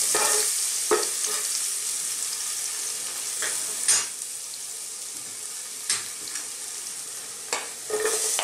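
Garlic sautéing in a pan for a Filipino sarciado tilapia dish, a steady broadband sizzle with scattered sharp scrapes and stirring clacks every couple of seconds, close and alone.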